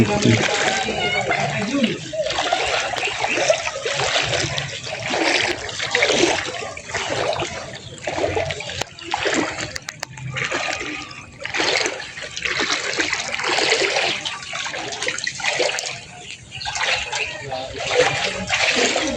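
Wading through deep floodwater around a house in a flooded neighborhood produces repeated splashing and sloshing in steady, irregular bursts close by, mixed with people talking throughout.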